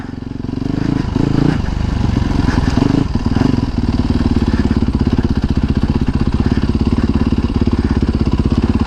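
A 2019 Yamaha WR250R dirt bike rides off-road, its single-cylinder engine thumping in a loud, steady rapid pulse close by, with a few revving surges early on before it settles into an even drone.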